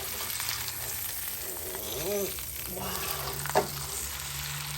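Steak sizzling steadily on a hot grill just after being flipped, a constant crackling hiss close up with a brief clatter near the end and almost no talk.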